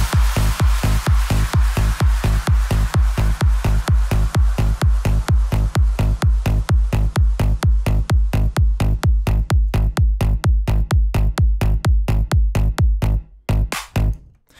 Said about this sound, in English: The reason why it's called Melbourne bounce is it's an offbeat bass with a kick.